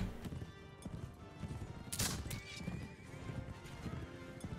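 Horses in the Mount & Blade With Fire and Sword video game gallop with steady clip-clop hoofbeats and give a loud neigh midway, over a busy battle din with no talking.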